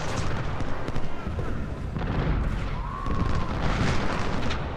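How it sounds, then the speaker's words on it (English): Artillery and infantry volleys in Ultimate General: Civil War, a steady din of booming cannon and rolling musket fire that carries on for several seconds with muffled voices underneath. "we've got artillery and 2 units firing"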